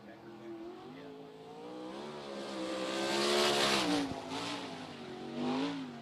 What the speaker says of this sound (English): Will put his foot to the firewall and send it down the back straightaway full throat into turn number 3.